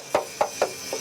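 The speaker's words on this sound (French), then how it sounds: "À l'aide d'appareils à ultrasons et d'un marteau, l'expert va vérifier l'épaisseur réglementaire" Four sharp metallic taps of a hammer on a barge's steel hull during a thickness inspection, evenly spaced about a quarter second apart, each with a short bright ring that fades quickly, close and distinct with no talk.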